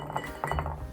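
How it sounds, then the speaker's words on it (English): An ice cube clinks into a tiki old fashioned cocktail glass, giving a few short bright knocks of ice against glass over a low steady background hum. "Let's put an ice cube in there."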